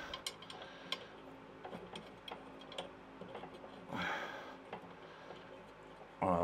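A socket wrench ratchets on a lawnmower blade bolt during a clutch refurbishment, a faint run of quick ticking clicks under quiet shop ambience, ending in a louder metallic clatter.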